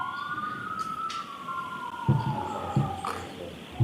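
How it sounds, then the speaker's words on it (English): A wailing emergency siren sweeps up and down as it recedes and grows fainter, with a few dull thumps underneath. "Sirens go further away."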